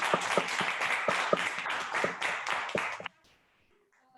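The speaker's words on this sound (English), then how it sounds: "A big round of applause for you" Hybrid Toastmasters meeting audience applauding a speaker: a dense patter of many hands clapping for about three seconds, fairly close, then cutting off into near silence.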